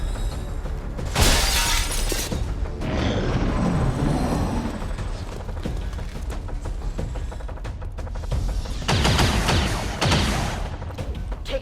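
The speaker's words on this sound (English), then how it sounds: "Taking heavy fire!" Heavy gunfire in XCOM 2, loud dense bursts with sharp shattering cracks, swelling near the start and again toward the end over a continuous busy battle din, with no voices.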